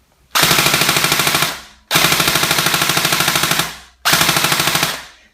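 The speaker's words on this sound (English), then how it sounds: "Now full auto." Bolt BRSS airsoft gun firing full auto with heavy recoil, three loud, sustained bursts of rapid, even shots separated by short pauses.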